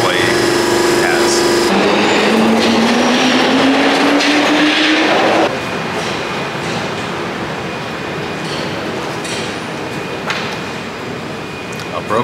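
A Glasgow subway train runs loudly with a continuous roar, a rising motor whine as it accelerates, then a steadier rumble with faint clatter, heard close from inside the carriage.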